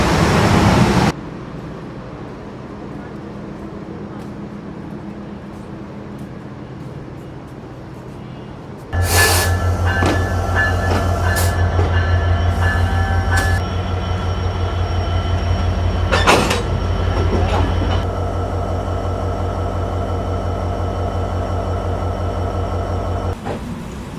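Benapole Express passenger train on the Dhaka to Benapole route, heard from inside as a steady loud rumble and rail clatter that swells sharply partway through, with brief rattling bursts and a continuous low drone.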